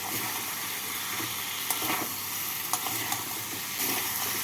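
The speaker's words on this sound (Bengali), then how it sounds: "আলু আর ফুলকপিটাকে মশলার সাথে নাড়াচাড়া করে নিলাম" Potato and cauliflower being stirred with masala in a pan, a continuous close sizzle with scraping spatula strokes and occasional sharp clicks against the metal, no speech.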